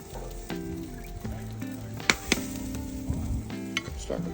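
Food frying on a home grill, a steady sizzle broken by sharp pops and clicks, with some scraping and stirring noises close by.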